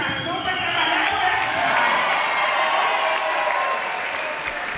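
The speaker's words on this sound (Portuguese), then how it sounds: "sendo aplaudido por seus correligionários" Supporters applauding at a mayoral swearing-in ceremony in Ipatinga, sustained dense clapping from a crowd that fills the whole stretch, with a few scattered voices mixed in.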